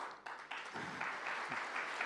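Audience applause at a keynote address by Lenovo India's managing director, a steady wash of clapping from a crowd that swells slightly and holds at moderate loudness throughout, with no voices over it.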